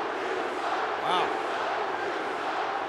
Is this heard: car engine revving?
no